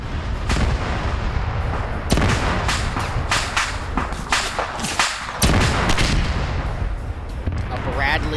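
Artillery and gunfire boom repeatedly in a large-scale PvP video game battle, with loud irregular blasts and sharp cracks in dense succession, some overlapping, against constant background rumble and faint voices.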